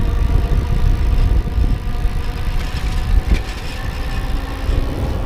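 An electric bike, a Watseka XP, ridden at full throttle over a bumpy driveway, giving a steady low rumble and hum with jangling rattles from a loose front basket throughout.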